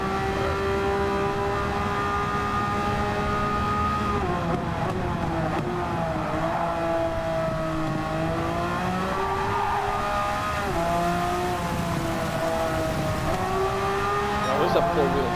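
A Subaru WRX Gr.B Road Car in the racing game Gran Turismo 7 drones loudly and steadily, with its engine pitch rising and falling as it shifts through gears and corners. Faint tire noise sits underneath.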